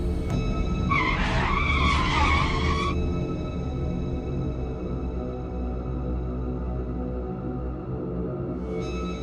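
A car skids loudly, tires squealing in a wavering screech for about two seconds over a heavy, steady engine rumble, set in an animated haunted police station story.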